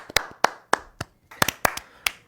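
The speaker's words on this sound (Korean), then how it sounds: "박수로 청해 듣겠습니다." Sparse, uneven hand claps from a small audience at a radio show's garden live session, each sharp clap distinct and close, about a dozen scattered across the moment.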